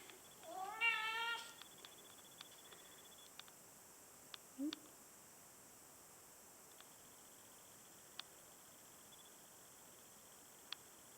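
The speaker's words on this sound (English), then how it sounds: "here is my cat" A cat gives one clear wavering meow near the start, then a short second call, with only faint scattered clicks and quiet room noise afterward.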